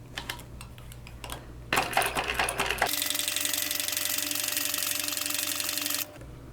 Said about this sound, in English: we're going to top stitch this connector piece down